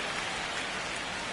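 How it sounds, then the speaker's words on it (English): Steady rain in the MLB The Show 25 baseball video game at Citizens Bank Park, a loud, even hiss of falling drops with no talk. "This rain is not letting up."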